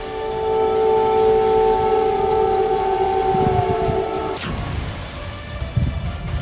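A civil defense air raid siren wails over Kyiv at night, a steady sustained tone from a distance that cuts off abruptly around the four-second mark, leaving low rumbling city noise behind.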